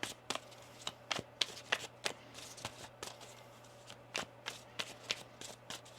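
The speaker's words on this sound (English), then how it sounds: "Let's get one more shuffle." Tarot cards are shuffled by hand in quick riffling bursts and soft taps, a steady irregular rhythm of crisp papery snaps, close up and alone without talk.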